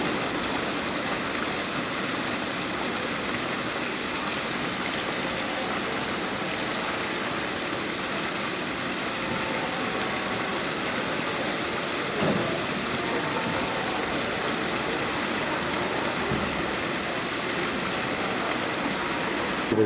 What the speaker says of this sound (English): Water fountain for this tiny plaza.